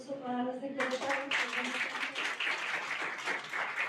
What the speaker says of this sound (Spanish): Les pido un aplauso para los de Querétaro